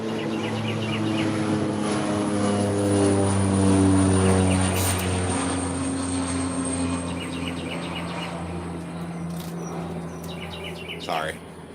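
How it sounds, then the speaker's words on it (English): A small single-engine propeller plane drones overhead outdoors, its steady engine tone swelling as it passes and slowly fading, with birds chirping faintly in the background. "Heard a plane going by, a small engine plane."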